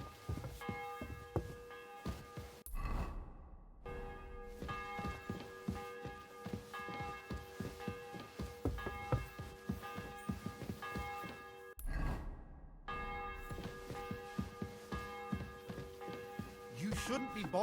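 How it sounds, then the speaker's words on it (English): A church bell rings in the medieval video game Kingdom Come: Deliverance 2. Its resonant tones hum and sustain through a long stretch, briefly breaking off twice, with a faint game ambience underneath. "The bell's ringing for Hans the 5th time."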